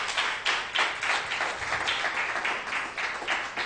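A church congregation claps during a Spanish-language sermon at a home service, a steady wash of mixed hand claps with a loose pulse of louder swells, fairly close and filling the room.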